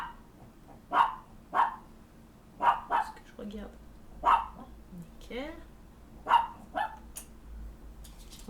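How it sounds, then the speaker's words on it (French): A dog barks in sharp, separate bursts, about eight loud barks spread irregularly through a quiet indoor room, while a person speaks briefly between them. "désolé pour le chien qui aboie"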